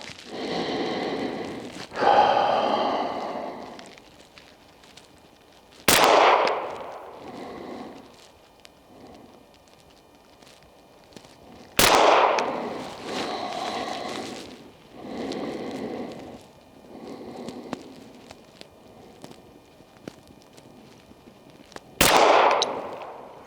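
Three sharp, loud pistol shots from a VP9A1F handgun fired at a bench rest while zeroing, spaced about six seconds apart, each with a short echo, and quieter handling noise between them.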